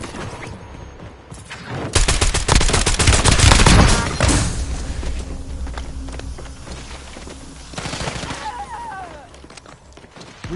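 Rapid automatic gunfire in a Warzone match, a dense close burst peaking mid-clip then thinning into scattered shots under game noise and in-game voice callouts.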